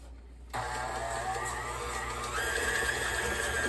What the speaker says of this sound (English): please excuse the noise while I start mixing